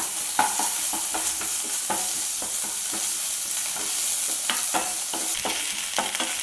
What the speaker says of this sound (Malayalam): 1 ടീസ്പൂൺ ജിഞ്ചർ ഗാർലിക് പേസ്റ്റ് കൂടി ചേർത്തിട്ട് വീണ്ടും നന്നായി ഒന്ന് ഇളക്കി കൊടുക്കാം.